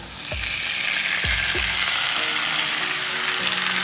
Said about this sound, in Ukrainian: піджарюю цибульку і додаю грибочки